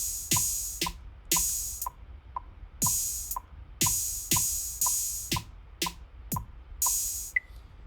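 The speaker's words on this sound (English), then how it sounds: "And then we can increase it to 16 beeps, which will be 16th notes" Metronome app ticking out sixteenth-note subdivisions, a run of crisp electronic clicks in fairly even succession, close and alone in a quiet room.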